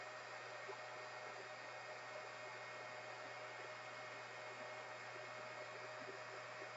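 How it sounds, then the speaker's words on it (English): A heat gun blows continuously, a steady faint whooshing hum with a low electrical drone, unchanging throughout and with no talk. "So let's turn on the heat gun, and we'll hold it in front of it."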